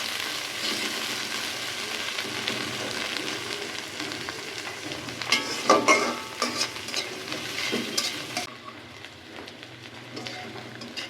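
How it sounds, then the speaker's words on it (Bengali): Onion, garlic and chilies fry in mustard oil for a village-style red potato mash, giving a steady bright sizzle with stirring scrapes and a few louder bursts around the middle, then quieting toward the end. "পেঁয়াজ মরিচ লাল করে ভাজা হয়েছে"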